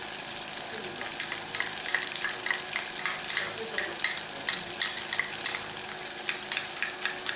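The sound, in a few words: tinned tomato sizzling in a frying pan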